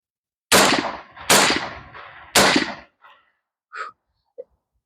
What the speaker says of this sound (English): we're just gonna take a couple shots right here just so you can see it from a rested position